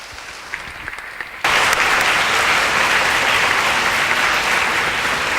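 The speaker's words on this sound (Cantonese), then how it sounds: "我哋再一次用熱烈嘅掌聲" Audience at a school morning assembly breaking into loud, sustained applause after a quieter moment, dense clapping close and continuous to the end.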